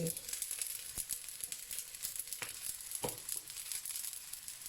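Sausage stir-fried in a hot pan with paprika and pepper, a steady soft sizzle broken by occasional scraping stirs and light clicks of a utensil, moderately quiet and close.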